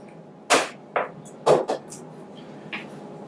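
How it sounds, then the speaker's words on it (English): The snug pop-on lid of a CleanCook stove fuel canister for ethanol or methanol snaps off, with a few sharp close clicks and pops in quick succession, then a softer tap, alone in quiet. "The pop-on lid snaps off easily, but it fits very snugly and very securely."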